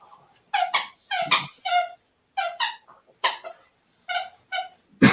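A dog's squeaky toy shrills again and again in close, loud bursts, often in quick pairs, with short silent gaps between squeezes and no voices.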